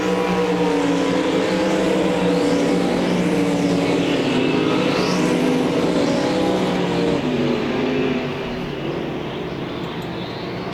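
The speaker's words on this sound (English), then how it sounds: "As they went past the flag stand, that time it was Stubblefield, Brown, Backus," Sprint cars race past the flag stand at Devil's Bowl Speedway during a Winter Nationals night, a dense continuous engine roar with overlapping passing whines that sweep up and down, loud and steady before easing slightly near the end.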